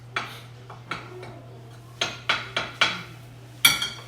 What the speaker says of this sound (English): We're going to give that just a little bit of a stir